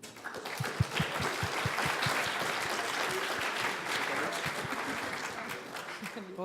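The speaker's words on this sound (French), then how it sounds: "Et je pense qu'on peut les applaudir." Applause from the audience at an event closing session rises and holds steady for several seconds, a dense clapping wash with some murmuring voices under it, fairly quiet overall.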